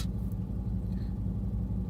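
Steady low engine rumble and road drone inside a moving car, continuous and close, with no talking.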